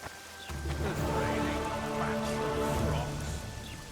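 Steady rain hisses through a scene in The Witcher 2 video game, a dense wash of falling drops layered with tonal in-game music or voice elements.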